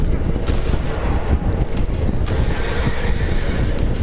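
In the Red Dead Redemption 2 video game, a badly injured horse whinnies amid loud game noise, with gunfire cracks, hoof clatter and muffled voices mixed in.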